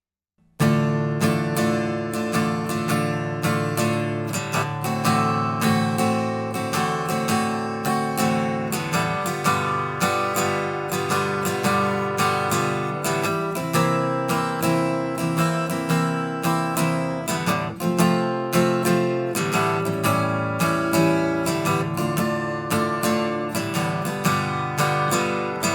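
A guitar strums through the pre-chorus chords of a song in steady rhythm, bright and close, with no voices.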